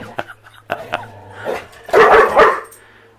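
A dog indoors in an off-grid house gives a few scattered yips and whimpers, then two louder, close barks near the end, with faint low rumbling behind.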